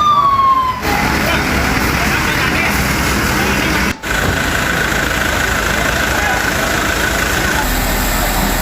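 Loud, continuous siren wail from fire engines responding to a fire, with rumbling engine noise underneath throughout.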